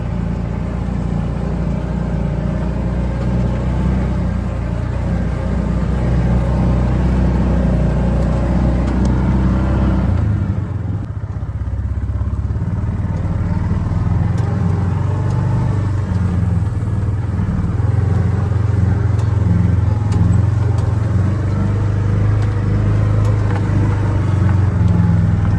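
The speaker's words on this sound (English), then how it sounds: "So we're going to make this long drive back here to the back" A car's engine and tyres rumble steadily through a long drive out to the back of a property, a continuous loud, close low drone whose tone shifts midway as the road surface changes.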